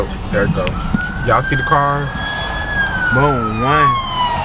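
An ambulance siren wails and warbles through a noisy street scene, rising and falling in pitch while people talk excitedly over it.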